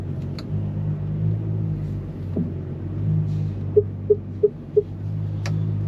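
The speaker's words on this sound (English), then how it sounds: "Oh, it sounds so good, that car." A Ferrari Purosangue SUV engine rumbles low and steady close by, with four short sharp clicks or blips rising briefly over the drone near the end.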